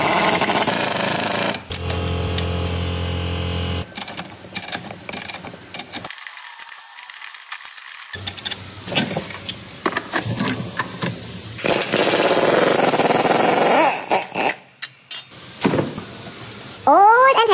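Power tool working on the old strut mount of an Alfa Romeo being prepared for track use, with loud rattling, hammering bursts in separate runs, then brief pauses and clanks of parts being handled.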